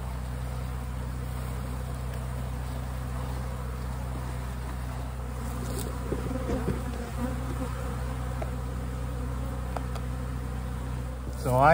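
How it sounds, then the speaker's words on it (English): A dense, steady buzz of many live bees droning together at close range inside a sample jar, continuous throughout with little variation. "a sample of live bees"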